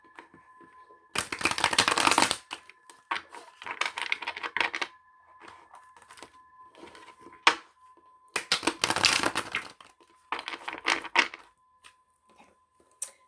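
Tarot cards being shuffled close up, in two long bursts of rapid riffling and flapping with shorter snaps and pauses between them, crisp against a quiet room with a faint steady tone in the background.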